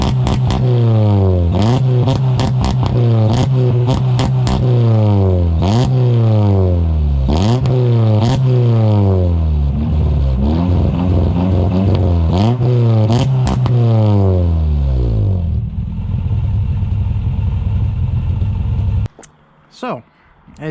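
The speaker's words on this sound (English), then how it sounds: "Get you a little exhaust clip here." A Honda Del Sol fitted with a swapped H22 engine runs with a loud exhaust, pulsing through a series of rhythmic rising and falling revs for most of the span before settling to a rough idle and cutting off near the end.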